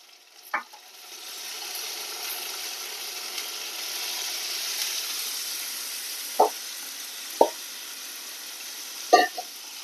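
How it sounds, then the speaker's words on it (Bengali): Water poured into a pan of frying pointed gourd and prawn curry with cashew and poppy seed paste, a hissing sizzle swelling and then holding steady, broken by a few sharp spoon clinks against the pan. "এবার জল দিয়ে দেব।"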